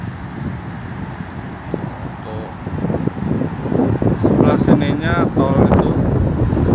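Strong wind buffets the microphone in a wide, open parking area by a ring road near Riyadh, Saudi Arabia, a steady low rumble that grows louder and gustier while someone talks over it.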